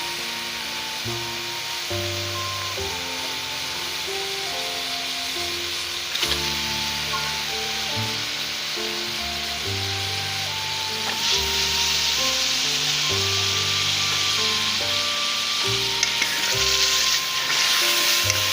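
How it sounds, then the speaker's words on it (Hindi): Chicken frying in a hot pan with tomato paste for palak gosht, a steady loud sizzle with stirring scrapes, growing a little louder partway through, close by and with no talk. "अब मैं चिकन शामिल कर रही हूँ।"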